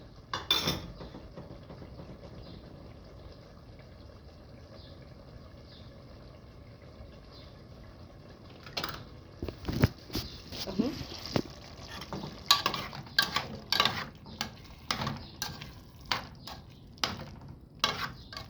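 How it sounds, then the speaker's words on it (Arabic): A spoon stirring tomato sauce in a pot, soft scraping at first, then a run of clinks and knocks against the metal with faint sizzling underneath. "بنفضل نقلب فيها كده"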